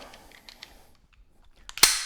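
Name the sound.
pistol dry-fire malfunction drill with dummy round: tap, rack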